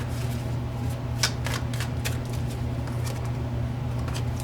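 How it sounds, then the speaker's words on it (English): Tarot cards are shuffled and drawn in a steady run of soft, papery riffles and flicks, close and fairly quiet over a low background hum, with no talking. "we're going to pull out more cards here"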